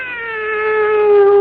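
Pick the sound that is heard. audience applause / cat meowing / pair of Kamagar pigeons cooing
cat meowing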